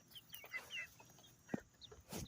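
Chickens in a backyard coop give scattered short clucks and squawks, fairly close and fairly soft, with one sharper call partway through and no talking over them.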